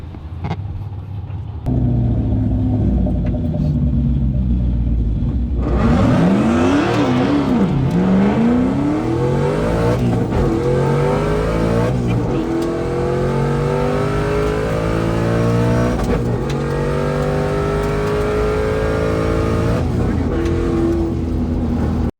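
Car with a new On3 turbo setup launching down a track, its engine loud and close as it revs and climbs through several gear changes over a long run, with people talking in the background.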